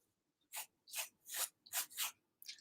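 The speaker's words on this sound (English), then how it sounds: "Listen to that crunchy paper." Crunchy paper crinkled and rubbed by hand, heard close but quietly as five or six crisp bursts in an uneven rhythm with short silences between.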